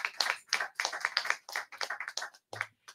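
Several people clap for Dr. Asar Winkler at a gathering, with close, uneven bursts of handclaps that thin into a few scattered claps.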